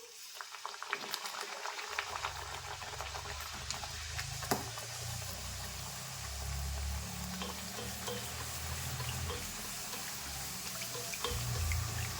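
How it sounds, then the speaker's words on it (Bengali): Luchi, Bengali fried flatbreads made with ripe palm fruit, dropped one by one into hot oil, giving a steady close bubbling sizzle with occasional light clinks, no talking. "এবার আমি এক এক করে লুচিগুলো তেলে দিয়ে দিচ্ছি"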